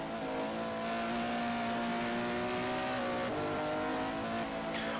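A race car at Mount Panorama in the last corners, its engine droning loud and close with shifting, falling pitch and a brief squeal of tires, a steady roar with no voices.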